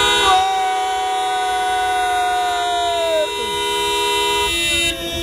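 Car horns blaring at a large motorway toll plaza during a protest, a long sustained honk with layered tones shifting and overlapping as several horns sound together, loud and close.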